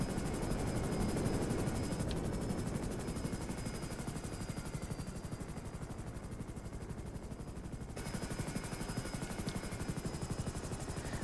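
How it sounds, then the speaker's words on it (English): An NH-90 transport helicopter flies past in GTA V, its rotor blades beating in a rapid, loud, continuous chop that swells early and then eases slightly as it moves along, alone without talk. "this is a simple transport helicopter"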